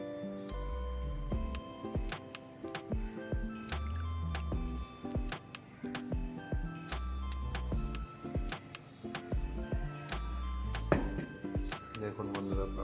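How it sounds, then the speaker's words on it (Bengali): Darjeeling first flush tea is poured, giving soft trickling and dripping under a person talking throughout, with light clinks and taps of the cup or pot. "আমি চাটি এবার আপনাদের ঢেলে দেখাচ্ছি"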